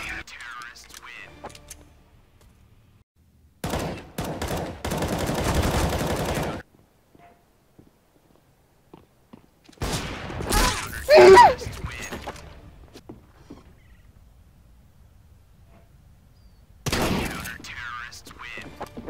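Gunfire bursts in the game Counter-Strike: Global Offensive: loud sustained automatic volleys in a few separate bursts with quiet gaps between, plus brief voices and game noises.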